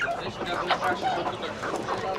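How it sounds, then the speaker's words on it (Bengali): Native chickens cluck at a large, busy chicken market, their calls close and overlapping against a steady din of crowd noise. "মুরগির বাজারটা কিন্তু বিশাল একটা বাজার পুরোটাই মুরগির বাজার"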